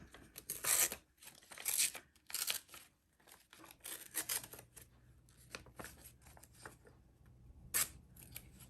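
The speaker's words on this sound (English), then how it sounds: "I think I'll just rip it" Paper from a paper bag being torn by hand for a junk journal page, heard as several short, crisp ripping bursts separated by quiet pauses, close and fairly soft, with no talking.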